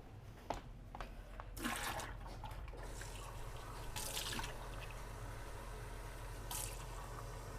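Paint water for a watercolor painting of orange blossoms gets swapped, with liquid pouring and splashing steadily, broken by a few sharper clinks and splashes and a steady low hum underneath, and no voices.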